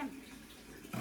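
Tap water runs steadily into a household vessel, a soft continuous splashing hiss that swells briefly louder near the end, with no talk over it.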